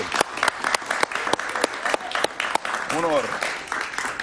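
Audience applause for a Venezuelan comedian and humorist, a steady wash of clapping with sharp individual claps standing out, and a brief voice or whistle-like tone rising over it midway.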